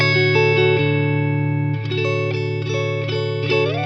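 A bright, distorted Paul Reed Smith HX 100 electric guitar amp, treble turned all the way up, holds sustained chords with a sharp, trebly edge, re-struck several times with small pick attacks.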